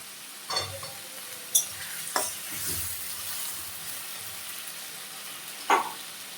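Peas tipped into a pan of frying mushroom vegetable curry, with a few sharp clinks of a spoon against the pan over a steady low sizzle and stirring, fairly close.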